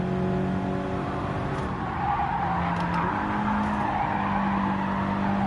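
A race car in Gran Turismo 7 brakes hard, its tires squealing in a sustained, wavering skid over a constant engine drone, loud and close throughout.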